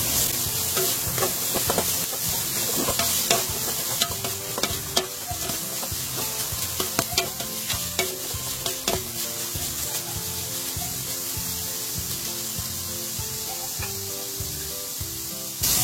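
Chicken pieces frying in a pot for sopas, stirred with a spoon: continuous close sizzling with repeated scraping and knocking strokes throughout.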